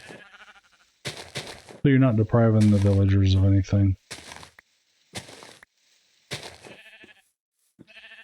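A sheep in a video game lets out a loud, drawn-out bleat lasting about two seconds, while a person talks before and after it.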